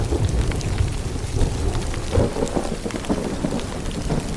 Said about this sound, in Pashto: وریځې خو دې غوړغوړې پکې راغلې